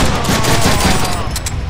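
Rapid automatic gunfire from the Deadpool video game, a dense continuous burst of loud overlapping shots running the full length with no pauses.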